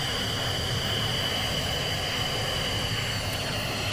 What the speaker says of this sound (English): That's the engine going.